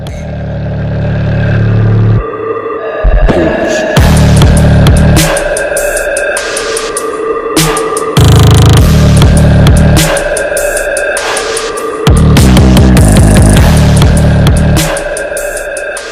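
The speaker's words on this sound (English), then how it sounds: "A Pulse beat, it has those distorted kicks." A loud, heavily distorted Pulse-style electronic beat with booming distorted kicks and buzzing synths, driving continuously with brief drops in the low end.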